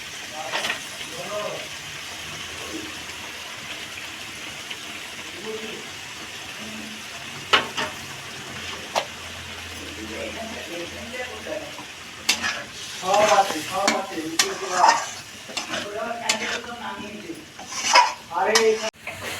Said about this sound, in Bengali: মশলা কষানো হয়ে গেছে